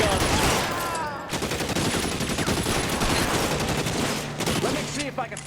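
Sustained gunfire from the video game L.A. Noire, a dense fusillade of rapid shots with mixed weapons, loud and continuous throughout under game chatter.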